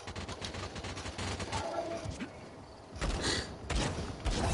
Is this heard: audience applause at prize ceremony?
no